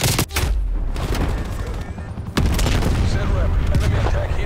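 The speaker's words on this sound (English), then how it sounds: "Stun grenade out." In Call of Duty: Black Ops Cold War, a stun grenade bursts amid constant heavy gunfire and booming battle noise, with a sharp loud surge partway through and game voices under the din.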